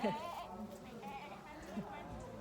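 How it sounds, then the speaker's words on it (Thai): Sheep bleating on a mountainside farm in Taiwan, a few wavering calls rising above steady outdoor noise while someone talks nearby. "น้องแกะอย่าหันตูดให้กล้องสิ"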